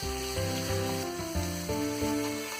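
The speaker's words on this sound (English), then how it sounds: "Now onion is little transparent, I'm adding little tomato." Tomato pieces drop into a hot pan of onions already softened to translucence over a high flame, setting off a steady, close sizzle that flares briefly with each addition, with no talking.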